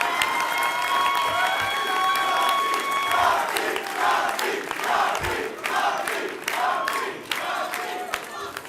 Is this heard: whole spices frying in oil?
no